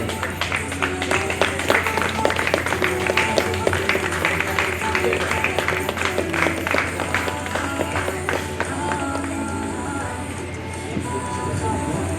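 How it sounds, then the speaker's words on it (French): Audience at a civil wedding ceremony applauds the civil registrar of Lingwala commune, a dense, sustained wash of many hands clapping with crowd noise and some cheering voices throughout, fairly loud and steady before easing slightly near the end. "Applaudissez très fort pour l'officier de l'état civil de la commune de Lingwala, s'il vous plaît."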